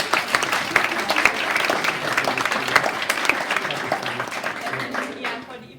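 Audience applause at the close of a startup panel discussion in Berlin, a smaller crowd clapping with distinct individual claps that gradually thin out and stop.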